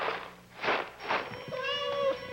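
A cat meows several times in a dry cat food commercial, a few clear, close, drawn-out calls spaced about half a second apart, with no talk.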